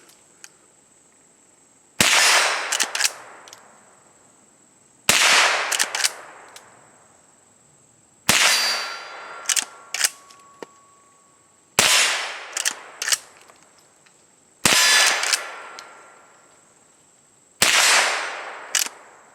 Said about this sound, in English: I'll go ahead and finish this magazine off because I'm just aching to shoot here.